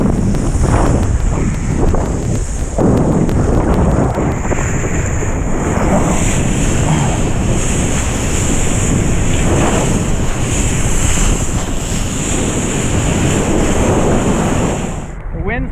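Ocean waves and strong wind at Spanish Banks during a kitesurfing session, a loud continuous wash of surf and roaring gusts buffeting the microphone throughout, fading out only at the very end.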